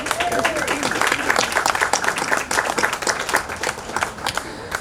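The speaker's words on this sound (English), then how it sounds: "give yourselves a round of applause" A crowd at an outdoor dedication ceremony claps loudly in dense, steady applause, with scattered voices and cheers mixed in.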